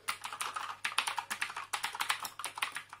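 Rapid typing on a Redragon Varuna K559 mechanical keyboard with custom green switches: dense, loud clicky keystrokes in an uneven rhythm, close up and alone without any voices.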